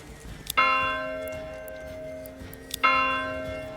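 A church bell rings twice in the medieval city-building game Manor Lords, each a bright clanging strike with a long ringing decay, heard up close over quiet game ambience.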